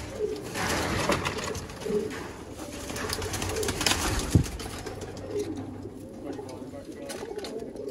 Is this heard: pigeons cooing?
yes